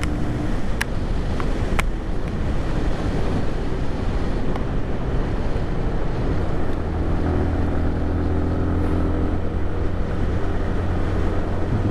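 A 2022 Lifan KPR 200 motorcycle in sixth gear, its engine held at maximum revs, drones steadily and loudly throughout, buffeted by heavy wind rush.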